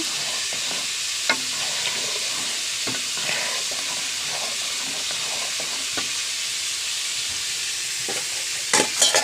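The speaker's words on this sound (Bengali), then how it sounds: "আমি এখন একটু ভালো করে মিশিয়ে নিচ্ছি" Homemade ghee being stirred into simmering milk payesh: a loud, steady hiss of steam and bubbling fills the clip, with soft spoon scrapes and occasional knocks against the pot and a brief clatter near the end.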